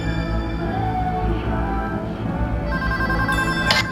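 Telephone ringing inside a bank during a heist in the video game Payday 2, a steady electronic ring tone sustained over dense game music and ambient noise, fairly loud and continuous.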